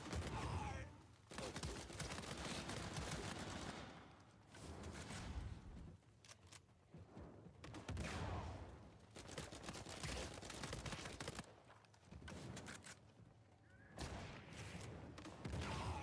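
Gunfire in Uncharted 4's Survival mode, with dense bursts of machine gun fire and explosive thumps crackling through a long stretch of combat, quiet overall with short lulls between volleys.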